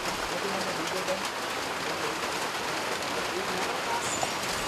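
Steady rain falls in a Sri Lankan palm-sap tapping area, an even close hiss of drops and patter that carries unbroken throughout with no clear voices.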